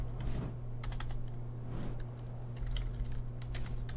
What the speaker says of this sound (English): every time I get in here and I start typing